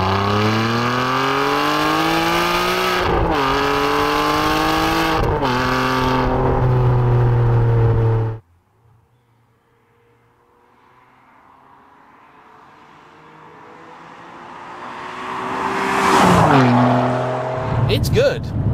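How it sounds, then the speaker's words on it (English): The V12 F133 engine of a Ferrari 612 Scaglietti HGTS revs hard through rising gears on an open road, loud and close with sharp shift breaks, then cuts off, and later a quieter engine swells back up. "Let's see what the final iteration of the F133 engine has got to give."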